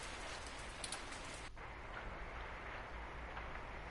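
Rain falls steadily in the video game 2064: Read Only Memories, a constant dense hiss with a brief dip partway through before the downpour carries on evenly.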